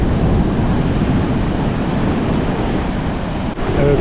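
Surf crashes continuously along a cold Turkish shore where anglers spin-fish for bluefish, a dense, steady roar of breaking waves with wind buffeting the microphone and a brief dip near the end.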